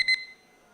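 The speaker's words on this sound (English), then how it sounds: "I'm wondering what that beep is." Electronic beeps in a conference hall during a health summit session: a few short, bright tones in quick succession at the very start, then near silence.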